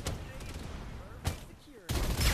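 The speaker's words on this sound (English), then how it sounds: "Opening fire! I love this! Reloading!" Bursts of automatic gunfire in a mobile battle royale video game: a sharp volley at the start, a short burst midway, then a sustained louder stream of shots at the end, with ringing effects between.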